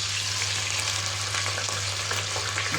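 Breaded chicken cutlets fry in hot oil in a pan, giving a loud, close, continuous crackling sizzle that stays steady throughout.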